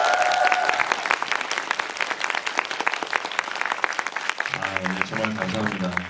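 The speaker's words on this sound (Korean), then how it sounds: "큰 소리 박수 한번 부탁드리겠습니다" Cinema audience applauding at a stage greeting after a film screening, dense close clapping throughout, with a voice coming in over it near the end.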